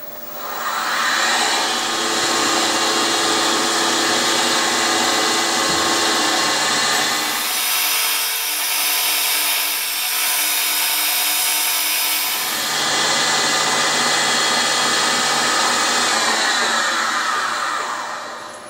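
A milling machine hogs out metal stock in a loud, steady grinding roar that dips into a slightly lighter tone midway before building back up, continuous and close with no talking.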